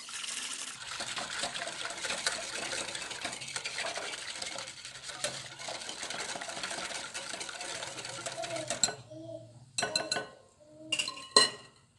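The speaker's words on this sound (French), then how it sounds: "dans ce récipient, je mélange le lait avec la levure chimique" Milk and baking powder stirred in a bowl: a steady swishing, scraping stir with faint clinks against the bowl, then a few sharper taps and clinks at the end.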